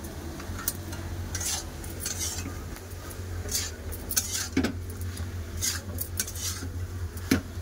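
Turmeric, cumin and chili powder sauté in a pan while a metal spoon scrapes and clinks against it in irregular strokes over a faint continuous sizzle.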